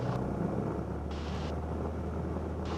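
A Cessna 172's piston engine runs at full takeoff power during a night flight, a loud, steady droning rumble heard from inside the cabin with some hiss, no speech.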